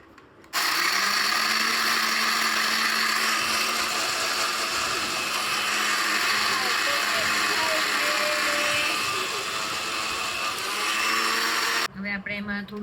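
An electric mixer grinder whirs loudly and steadily while powdering biscuits, starting abruptly and running for about eleven seconds before cutting off, with voices talking faintly under and after it.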